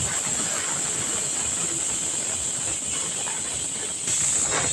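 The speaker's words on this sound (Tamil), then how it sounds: "ஏர் அடங்குறவரெலாம் திறக்காதீங்க குக்கரை." A pressure cooker vents steam while cooking a garlic curry, a loud continuous hiss with a bright, airy edge that keeps going nearly unchanged, up close and alone.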